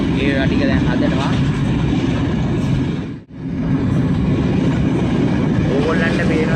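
An intercity train locomotive runs with a loud, continuous rumble of wheels and engine. It briefly drops away near the middle, and someone talks over it throughout.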